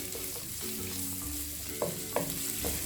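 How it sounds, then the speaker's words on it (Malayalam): Sliced medium onions sauté in a hot pan, a steady close sizzle with a few soft clinks and scrapes of stirring. "2 മീഡിയം സൈസിലുള്ള സവാള സ്ലൈസസ് ആക്കി എടുത്തിട്ടുണ്ട്. അത് ഇതിലേക്ക് ഇട്ട് കൊടുക്കുക. എന്നിട്ട് വാട്ടിയെടുക്കുക."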